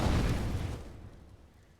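Grenades bursting in Counter-Strike: Global Offensive on the Inferno map, a loud explosion that rumbles and decays over about two seconds with no talk.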